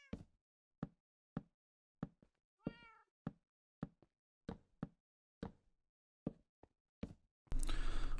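Cat in Minecraft meowing in a series of short, evenly spaced calls, clear and close, with one longer drawn-out meow in the middle, before a burst of loud noise at the end.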